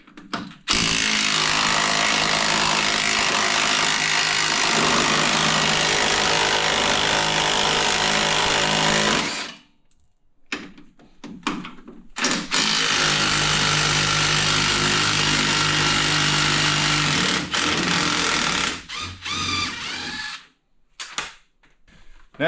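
A loud power tool, likely an impact wrench, runs off the 15mm lower shock bolts on a 2007-2013 Chevrolet Silverado pickup, two long sustained bursts separated by a pause, with short rattling clatter between and after, no talk.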